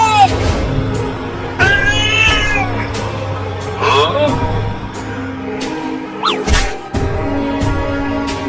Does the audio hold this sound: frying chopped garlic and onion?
no